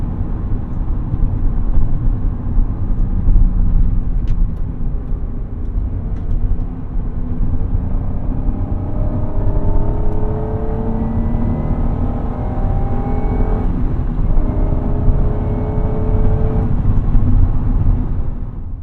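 A 1996 Acura NSX-T engine drones loudly and steadily from inside the car while driving, with engine tones rising and falling through gear changes and no talk over it.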